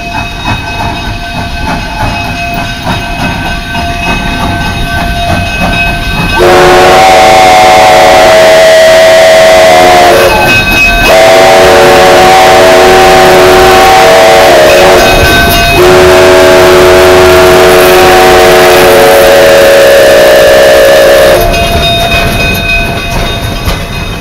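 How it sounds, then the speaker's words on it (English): A Durango and Silverton steam train approaches, its horn or whistle sounding loudly in several long, sustained blasts over the rumble and clatter of the rail cars, close and dominant with no talk. "Come on, come on, we got train coming."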